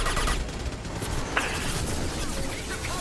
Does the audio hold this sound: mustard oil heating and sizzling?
no